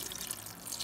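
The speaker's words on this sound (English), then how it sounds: "And then 4 cups of water that I'm going to pour into here." Water splashes into a cooking pot lined with stuffed grape leaves, a brief, steady pouring trickle heard close up with no talking.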